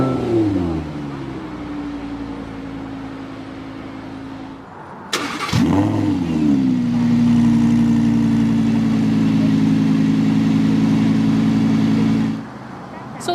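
A 2016 Lamborghini Huracán LP610-4 Spyder engine idles, cuts out, then starts in Corsa mode with a sharp crank and loud rising rev before settling into a deep, steady, close idle that continues for several seconds.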